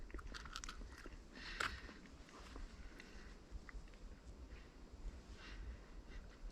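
Close chewing and biting of food with peanut butter, eaten outdoors, with soft crunchy and wet mouth sounds in an irregular rhythm, alone over quiet background noise.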